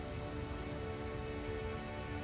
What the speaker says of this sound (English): later that night, rain begins to fall. And fall, and fall.